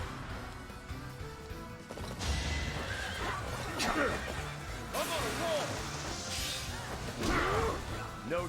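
A horse neighs and whinnies several times amid crashing and thumping impacts in Fire Emblem: Three Houses, with a loud, busy, synthetic quality.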